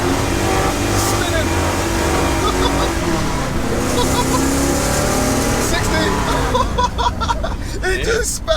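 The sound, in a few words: 1969 Pontiac Trans Am Ram Air III launching with wheelspin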